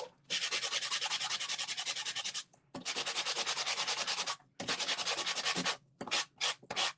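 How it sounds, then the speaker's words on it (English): A sanding block scrapes across lightweight two-tone cardstock with a white core in three long, steady rasping strokes, then a few quick short rubs at the end, close and clear with no talking. "I'm going to take my sanding block"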